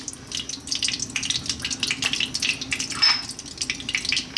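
Dried chili sizzling in hot olive oil in a pan, a steady, close crackling fry with fizzy bursts that rise and fall and no talking.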